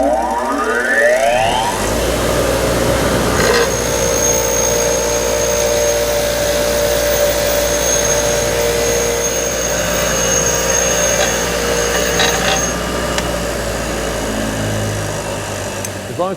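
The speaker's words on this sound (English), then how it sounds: "Going to take it over here on the wire wheel, try to clean up some of the junk" A bench wire wheel scrubs a brake caliper piston clean, spinning up at the start and holding a loud, steady whine with scratchy grinding contact throughout before winding down near the end.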